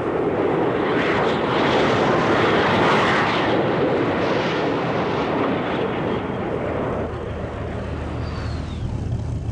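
A P-51 Mustang's piston engine roars steadily in a flight simulator game, a loud continuous drone that thins out slightly toward the end.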